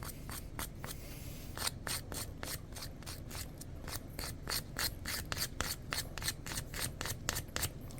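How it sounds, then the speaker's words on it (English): Sandpaper roughing up a 51-inch Arneson drive shaft during repair, heard as a fast, regular series of close, gritty rasping strokes that speed up after the first second and continue steadily, with no talking. "So I'm taking my sandpaper,"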